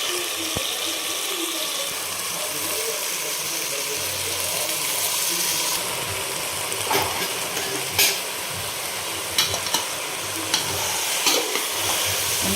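Washed rice sautéed in oil for chicken biryani, giving a continuous close sizzle with several sharp scraping stirs and clinks bunched toward the end.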